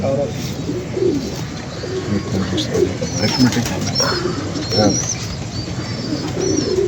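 Pigeons coo in repeated low calls with occasional wing flaps, close to the microphone, while someone talks over them for much of the stretch.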